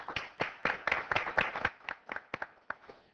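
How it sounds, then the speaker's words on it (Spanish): Studio audience applause in a Spanish-language talk show welcoming guests, a burst of fairly loud, scattered claps that thins into a few sparse, separate claps before fading. "Los recibimos con un aplauso."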